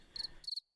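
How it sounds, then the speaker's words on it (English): Crickets chirp in two short, bright trilled bursts, faint and close, under a quiet background hiss that then drops to silence. "Crickets."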